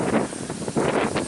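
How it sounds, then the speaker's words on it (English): Strong gusts of cold wind buffeting the microphone outdoors, a loud rushing roar that swells and eases over a short stretch. "That wind just came up out of nowhere."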